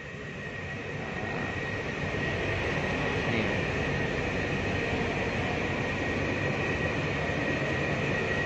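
Steady, continuous rumble of a KRL electric commuter train running between Solo and Yogyakarta, heard from inside the air-conditioned carriage, with a broad hum and a low rolling roar that swells slightly early on and then holds even.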